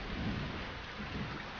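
Heavy rain roars continuously with a low thunder rumble inside the game Stick it to the Man, a dense, loud wash of storm noise with no voices.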